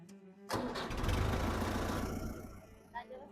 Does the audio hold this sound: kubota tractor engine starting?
yes